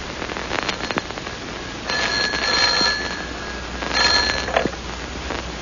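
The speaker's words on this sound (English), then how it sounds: "Almost at once, the telephone rang." Telephone ringing as a sound effect in an old-time radio drama, two bursts of bright ringing separated by a pause, fairly close, with faint background crackle and no speech.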